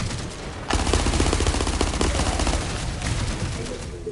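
Rapid automatic gunfire in the video game The First Descendant, a dense sustained burst of loud shots starting abruptly after a brief lull and continuing steadily to the end, with no talking over it.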